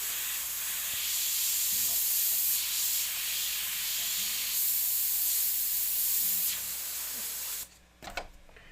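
A steady airbrush hisses in long bursts with brief pauses between them, close and even, then stops with a few clicks and knocks at the end.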